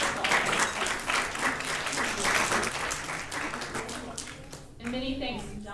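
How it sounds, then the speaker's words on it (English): Audience applause fills a university banquet hall, a dense continuous wash of clapping from many hands that holds steady for several seconds before thinning near the end, with a voice briefly audible over it. "Let's give you y'all a round of applause."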